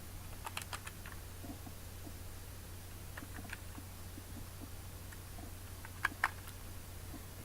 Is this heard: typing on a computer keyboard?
yes